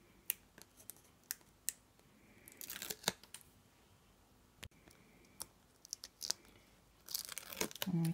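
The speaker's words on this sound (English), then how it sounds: "And then we just peel off the back." Backing paper peeled off a card topper for a watercolour snowman card, with scattered soft clicks and paper handling sounds up close, then a brief louder tearing rustle near the end; no voices.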